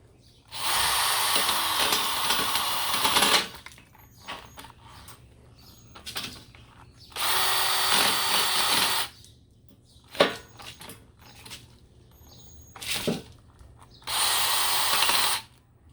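A power drill bores holes into a laminate butcher block workbench in three loud sustained bursts of high-pitched whirring, separated by quieter pauses filled with faint handling clicks and knocks.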